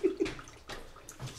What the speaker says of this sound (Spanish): Vamos a echarle agua.